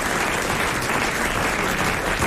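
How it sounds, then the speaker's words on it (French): A French television studio audience in 1994 claps in a dense, steady burst of applause that stays loud and even throughout, with no talking over it. "Merci d'applaudir."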